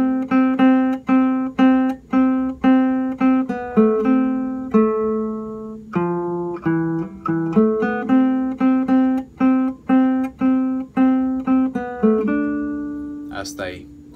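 A melodic phrase played on guitar, plucked single notes ringing out one after another in a steady, clear line, close and alone with no talking.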